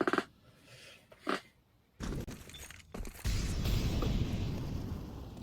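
Grenades going off on B site in a CS2 match: a few sharp separate pops early, then a sudden heavy blast that settles into a rumbling, crackling roar which swells again and lingers.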